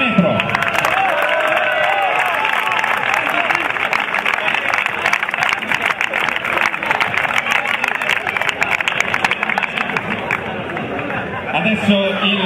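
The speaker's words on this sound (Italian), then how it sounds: "partiamo ovviamente dal presidente, applauso per Enzo Ginepro." A crowd at a futsal club presentation in Fondi claps and cheers continuously, a dense wash of hand claps with background chatter running through it.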